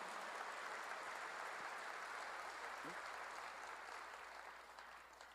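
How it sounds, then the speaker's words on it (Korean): An audience claps in a church during a sermon, a steady wash of applause that continues evenly and slowly tapers toward the end. "믿는 사람만 박수"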